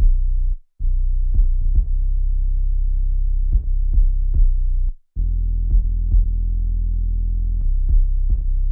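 A deep, sustained 808 bass tone plays in a looping kick drum pattern for a jerk beat, punctuated by short sharp clicks and two brief dropouts, with no voices.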